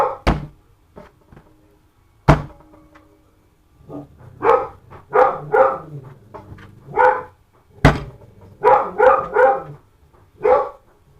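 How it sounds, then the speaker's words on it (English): Dogs bark repeatedly at a dustman: a couple of sharp isolated barks, then a run of loud, close barking in quick bursts, with no voices. "they're probably barking at a dustman"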